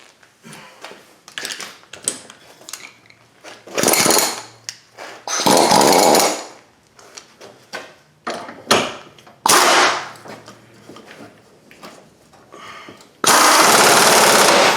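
An impact gun drives socket-fitted bolts on a 2001 Ford Focus 2.0 SPI during timing belt and water pump assembly, firing several loud rattling bursts of one to two seconds, separated by sharp clanks and tool handling.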